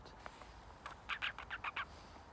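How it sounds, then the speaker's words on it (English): A bird calls nearby in a quick cluster of short, bright chirps over a faint background hiss, with a few softer notes before them. "Hey, bird."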